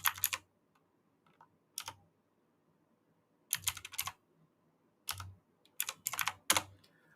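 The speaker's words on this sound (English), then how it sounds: "So I'm going to type it in the comments" Bursts of computer keyboard typing in short clustered runs separated by pauses, close and fairly quiet, with no one speaking.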